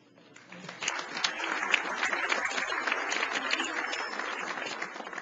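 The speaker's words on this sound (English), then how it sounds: "Please hold your applause until I finish all of the housekeeping details" Audience applause at a law conference plenary, a steady patter of many hands rising quickly after a brief start and holding at moderate level throughout, with dense overlapping claps and no one speaking.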